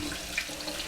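Tap water running steadily over salted vegetables in a mesh strainer at a kitchen sink, a soft continuous splashing rush, quiet and close, with no voices.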